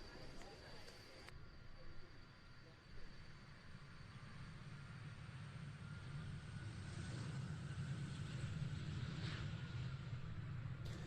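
A Messerschmitt Me-262 jet flies at an airshow, its engine a continuous rushing drone that slowly swells louder, with commentary talk over it.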